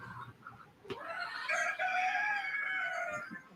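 A rooster crows once, a long drawn-out call rising and holding for a couple of seconds, loud and close, after a brief sharp knock and some clucking from nearby fowl.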